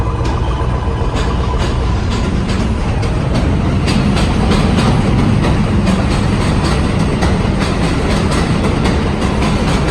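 A train rolls past close by, a steady loud rumble with rhythmic clickety-clack of the wagons running continuously throughout, with no talking.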